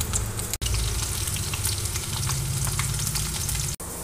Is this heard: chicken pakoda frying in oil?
yes